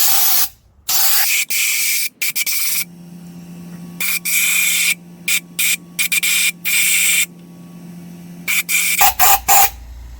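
Compressed air hissing from a blow gun around the spark plug area of a 2011 Ford Crown Victoria Police Interceptor engine, loud close bursts starting and stopping irregularly, some long and some short, with a faint motor hum between.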